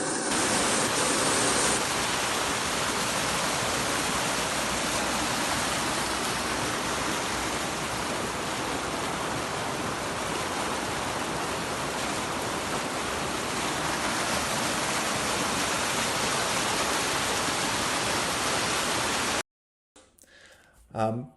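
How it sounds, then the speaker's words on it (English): Continuous rushing rainwater runoff pouring along a country lane, a loud broadband flow, steady for a long stretch before cutting off abruptly near the end. "the runoff of water into Drundrick Lane"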